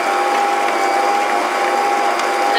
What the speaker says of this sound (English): we're just going to briefly mix this on low speed